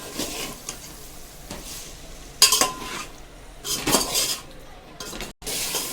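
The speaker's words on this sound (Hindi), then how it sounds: "अब इसमें हम जो गोश्त को उबाल के रखा था, अब इसमें उसको डाल देंगे और इसको अच्छे से थोड़ा फ्राई कर लेंगे" Boiled mutton frying in ghee with spices in a cooking pot, heard as repeated metal clanks and scrapes of a spoon stirring against the pan over a low background sizzle, with no talking.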